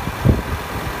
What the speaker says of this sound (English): Very powerful engine.